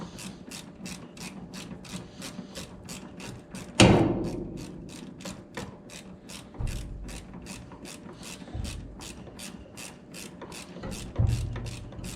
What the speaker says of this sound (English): I'm going to go ahead and tighten the master cylinder the rest of the way